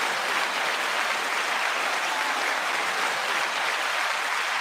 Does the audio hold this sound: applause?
yes